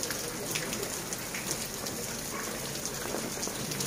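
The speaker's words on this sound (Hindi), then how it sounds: "फिर भी बारिश हो रहा है" Steady rain falling during the first snowfall of late October in Pahalgam, Kashmir, with trees covered in snow; a continuous, even hiss of drops close by, with no voices.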